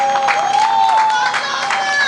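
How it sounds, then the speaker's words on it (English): Rally crowd in Georgia applauding and cheering together, a steady loud wash of clapping with whistles and voices mixed throughout. "So just give yourselves a round of applause for me real quick."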